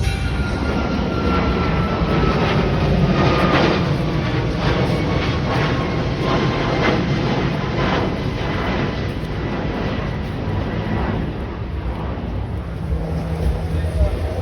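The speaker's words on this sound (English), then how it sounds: "Whoa, guys, look at this jet." A jet airplane in flight gives a loud, continuous broadband roar that stays steady throughout, with no breaks or voices.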